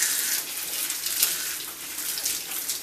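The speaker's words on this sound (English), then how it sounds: "so now you're going to go under cold water" Cold tap water runs steadily into a sink as a bright, even hiss with slight splashing variations, close and continuous for a few seconds with no talking.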